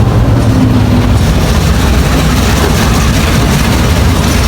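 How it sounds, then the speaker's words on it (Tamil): A train on the Colombo to Batticaloa railway pulls away in the rain, its loud, steady engine and wagon rumble filling the whole stretch without a break. "இப்போ ட்ரெயின் கிளம்பி போகுது"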